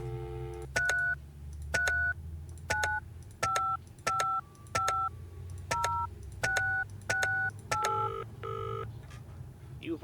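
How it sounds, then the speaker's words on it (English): Telephone keypad tones dialed in a video game: about eleven short, evenly spaced dual-tone beeps over a low hum, clear and close. "No, let's call John Brenham."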